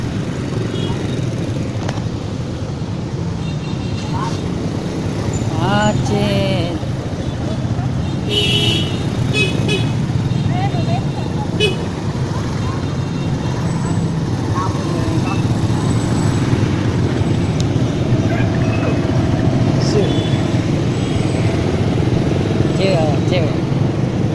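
Dense traffic jam on a street in Makassar: a steady roar of car and motorcycle engines with scattered horn toots, loud and continuous throughout, with voices mixed into the background.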